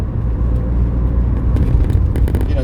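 A car drives across the circuit at Silverstone, with a steady, loud low engine and road rumble filling the whole stretch and some brighter tyre or road noise toward the end.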